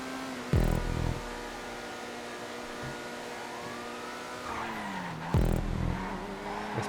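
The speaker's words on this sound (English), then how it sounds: "Itali GTB, one of my favourite supercars" Grotti Itali GTB supercar engine in GTA 5 racing, a steady high-pitched engine drone held close, with its pitch sliding down and back up and two sharp bursts marking gear shifts or impacts.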